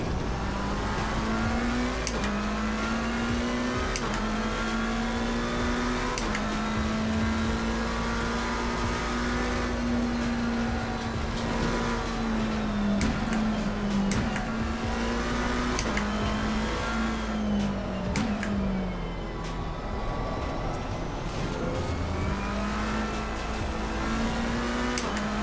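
Race car lapping the Nordschleife in Assetto Corsa Competizione, engine holding a steady mid-rev drone that rises and dips through gear changes and corners, with occasional tire squeal, continuous and close without voices.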